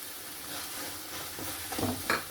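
Ginger garlic paste sautéing with softened onions and tomatoes for a Tamil egg curry, a steady low sizzle with stirring scrapes that grow louder and more clattery toward the end.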